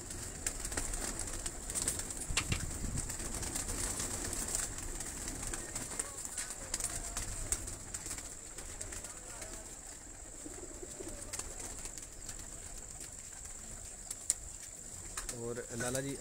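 A pigeon coos softly in the background amid faint ambient noise and scattered clicks, the low repeated calls distant and modest in level throughout.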